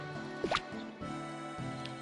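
Crops get watered with a watering can in Rune Factory 4: a short splashy pour with a quick rising drip-like chirp, set over a soft looping game music bed, then a second faint splash.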